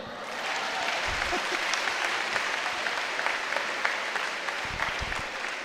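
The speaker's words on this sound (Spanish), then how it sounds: "Aplaudan" A church audience at a sermon applauds, dense and even clapping that stays at a steady level for several seconds with no talking over it.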